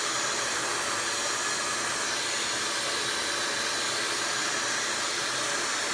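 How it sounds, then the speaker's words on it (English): A Dyson Supersonic hair dryer blows steadily and up close, giving an even, airy whoosh that holds at one level from start to finish with no voices. "you just want a good blow dryer"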